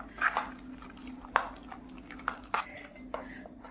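Sponge cake batter with baking powder and water being stirred in a bowl, with a few sharp clinks of the utensil against the dish scattered over a low background hum.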